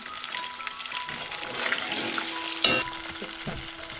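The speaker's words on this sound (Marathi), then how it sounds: "खेकडीची चरबी आहे ना ती पूर्णपणे भाजून घ्यायचं आपण टाकतो त्याच्यामध्ये लसूण" Crab fat and garlic frying in a hot pan give a steady, close sizzle and crackle with a few sharp spikes and utensil clinks.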